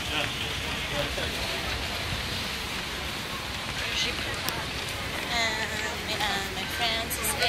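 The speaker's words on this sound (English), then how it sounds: "It's raining now." Steady rain pours on Orchard Road in Singapore, a dense, even hiss filling the street scene, with voices talking faintly underneath.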